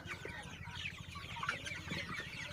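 Fifty-day-old Sonali super hybrid chickens cluck and chatter close by in a poultry shed, a busy overlapping flock with a few sharper calls rising above the murmur.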